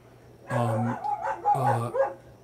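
A dog barks outside in a yard in two loud, close bursts about a second apart, each a rapid run of barks with a trailing whine between them.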